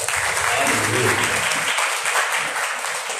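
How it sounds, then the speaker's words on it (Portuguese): A church congregation applauds during a worship service, a short dense burst of clapping with voices mixed underneath, holding steady before easing slightly. "Você pode aplaudir ao Senhor?"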